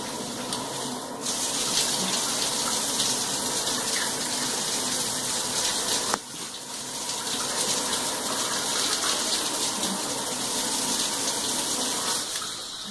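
Aqua Elegante six-function luxury shower head spraying water at high pressure, a loud steady hissing gush that briefly cuts and restarts midway, with no talking.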